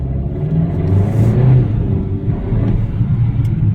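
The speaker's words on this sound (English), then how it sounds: "That was first and second gear. You can hear it shifting." A 2023 Hyundai Kona N-Line accelerates through first and second gear at half throttle, giving a steady close engine rumble and whir that rises, dips briefly at the shift, then climbs again.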